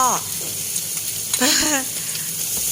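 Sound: vegetables frying and searing in a pan

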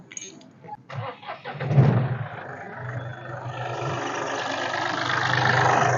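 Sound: SUV engine starting and idling

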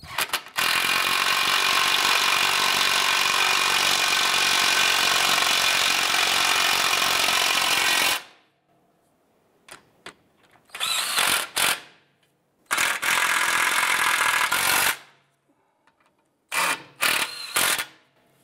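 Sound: power tool tightening bolts on Honda Pilot exhaust

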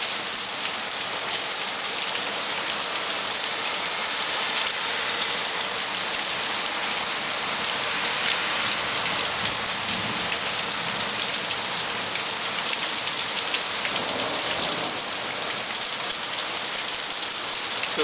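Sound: summer downpour rain with thunder

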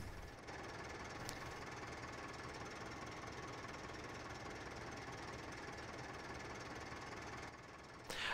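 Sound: tractor engine heard from inside the cab, Farming Simulator 15 video game

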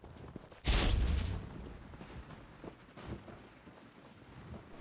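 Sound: thunder and rain in a video game

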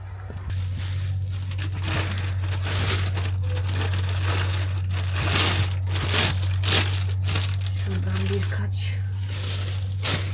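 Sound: plastic bags crinkling while being handled

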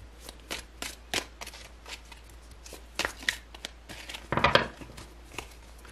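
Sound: shuffling a deck of tarot cards

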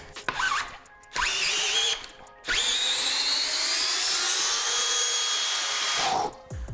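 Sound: DeWALT DCD791 cordless drill backing a large bolt out of wood

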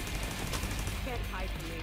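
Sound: gunfire in the video game The Division 2

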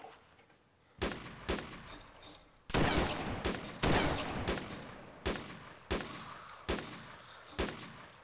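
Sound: gunfire in the video game Arma 2

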